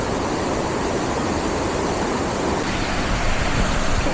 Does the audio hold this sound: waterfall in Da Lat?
yes